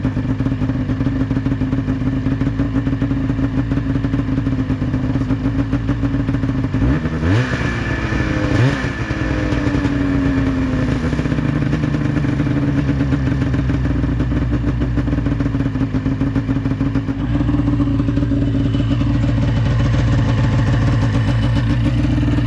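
Snowmobile engine that sat ten years in a storage container, idling steadily after a restart with a close, continuous putter and clatter, one brief blip of revving partway through, no talking.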